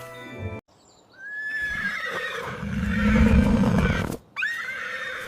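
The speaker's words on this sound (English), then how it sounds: "Horse says neigh." A horse neighs, a loud nearby whinny rising and trembling for a few seconds between short silent gaps, heard on its own without speech.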